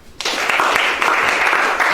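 An audience bursts into applause after a brief quiet moment, dense steady clapping from a crowd sustained to the end.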